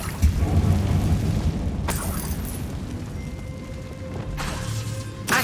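The Incendio fire spell cast in the Hogwarts Legacy video game erupts in two loud whooshing booms, each followed by a crackling rumble.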